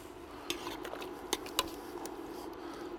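Cutlery clinks and scrapes against dishes as a chili of tomatoes, garlic, eye round chunks and canned cannellini beans is plated, a few sharp knocks standing out over a soft background hum.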